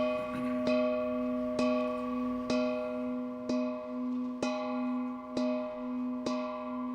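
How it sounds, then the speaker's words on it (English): A clock bell strikes over and over in a dramatized Christmas Carol radio play, each loud metallic clang evenly spaced and ringing on into the next, with no voices over it. "The bell struck 12."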